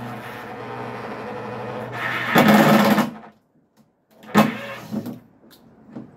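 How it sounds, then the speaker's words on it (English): An impact drill drives a screw into wood while door handle bars are fitted, giving a loud buzzing whir in two bursts, the first longer, separated by a brief silence, with hammering rattles up close. "That is the noise of an impact drill."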